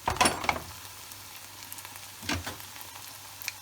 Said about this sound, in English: So now I've got the celery, the peppers, the leeks, the onions, the rice, all bubbling away nicely together